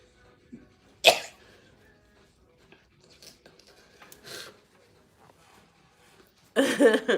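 A sharp sneeze bursts out early, followed by quieter sniffs and breaths, then a louder noisy burst near the end, close to the listener.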